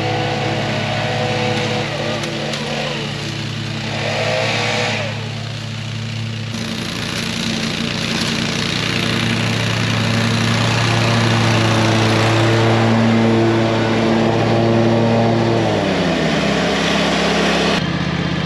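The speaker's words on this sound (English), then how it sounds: "so I'm mowing a little bit of this side" A Toro lawn mower runs steadily while mowing grass, its engine drone loud and close throughout with small shifts in pitch as the load changes.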